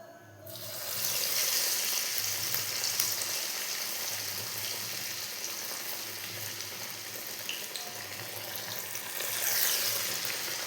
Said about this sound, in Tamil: இப்போ நம்ம வாழைப்பூ வடையை போட்டுடலாம்.